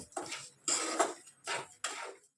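A spatula scrapes semolina barfi mixture with sugar around a pan in four distinct strokes, each a short, close, gritty rasp separated by brief quiet gaps.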